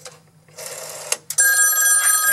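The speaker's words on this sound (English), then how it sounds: "the other phone is ringing" An old rotary dial telephone rings loudly and close, its metallic bell jangling in short bursts before settling into a sustained ring.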